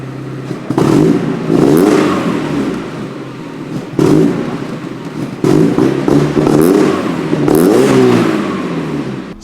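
A Mazda Miata engine with a freshly fixed O2 sensor revs hard and loud in repeated bursts, rising and falling with brief drops between pulls, close up and with no talking.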